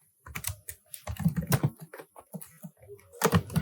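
Code typed on a computer keyboard, with quick irregular key clicks and clacks in short bursts, heard close and crisp, pausing briefly between runs of keystrokes.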